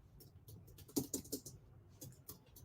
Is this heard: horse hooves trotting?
no